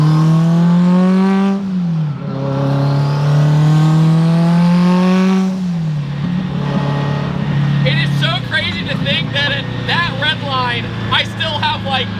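A 1100 hp Subaru Forester accelerating hard, its engine note rising through gears with pitch drops at each shift, heard loudly from inside the car; people then talk excitedly over the running engine.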